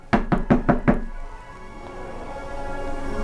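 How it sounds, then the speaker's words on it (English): Five quick, solid knocks land on a wooden front door in an even rhythm, loud and close, then fade into a quiet room tone. "a peasant woman knocked on the front door."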